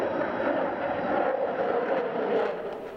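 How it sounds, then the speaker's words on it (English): F-22 Raptor fighter jet flying an air show demonstration, a steady broadband engine roar that holds level throughout, fairly loud and with no clear voices. "So right here, the jet goes up."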